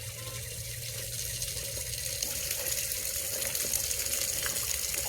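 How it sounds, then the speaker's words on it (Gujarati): Water gushes from a leaking pipe on a well motor pump, a steady close rushing spray with a faint low mechanical hum beneath, continuous and fairly loud throughout. "તો આપણે અહીંથી થઈ ગયું છે પાણી લીક"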